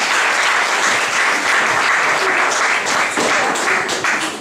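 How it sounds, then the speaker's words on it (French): Loud, sustained applause from a wedding audience, dense and steady clapping throughout without pause. "On les applaudit bien fort."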